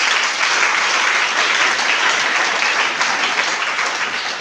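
A church congregation breaks into loud, sustained applause and cheering during a worship service, a dense continuous roar of many clapping hands with no pauses.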